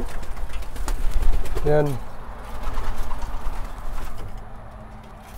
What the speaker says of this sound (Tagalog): Racing pigeon din yan.